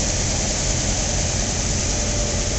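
A 1958 Cadillac engine with newly fitted dual exhaust idles, just revived after fifteen years. It makes a steady, close, broadband rumble with an even hum and no voices throughout.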